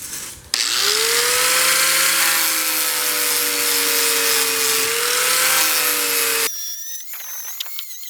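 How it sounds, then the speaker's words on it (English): A soft-backed grinder running a finish grind on a steel fire poker, a loud continuous whirring hum with a slight pitch dip partway through, stopping abruptly before some quieter clanks. "I'm gonna switch from the rigid grinder to the soft backed. Do like more of a finish grind on it."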